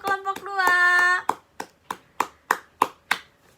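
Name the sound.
applause for a group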